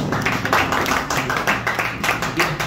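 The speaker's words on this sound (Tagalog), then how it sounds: "Isa pa malakas na palakpak sa ating Panginoon Diyos." A church congregation claps steadily and loudly, dense overlapping hand claps sustained throughout.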